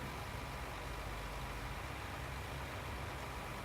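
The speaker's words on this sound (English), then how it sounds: "this little tractor's been running non-stop since we got it" A small tractor engine in the video game Farming Simulator 19 runs steadily at idle, a continuous low rumble that stays even and moderately quiet throughout.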